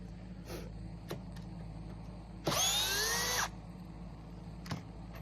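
A cordless power drill backs screws out of a timber framing jig for a dovetail joint, one loud whirring burst of about a second amid quiet room noise and a few clicks and knocks.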